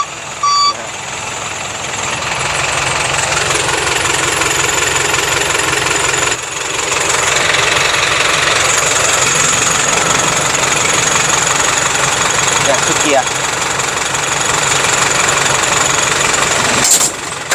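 A turbocharged dump truck at an earth-hauling work site runs with a loud, steady, close engine roar and a dense rattling clatter. There is no talk, and the roar dips only briefly.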